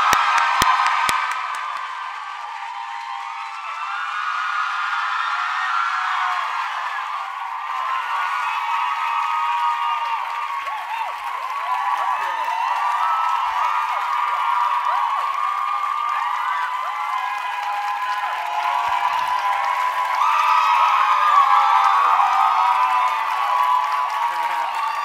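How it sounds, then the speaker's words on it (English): An audience at a New York Times live event with Leslie Odom Jr. and Yamiche Alcindor cheers, whoops and applauds continuously, a dense, sustained roar of crowd noise swelling slightly near the end. "So the crowd is obviously really excited to see you"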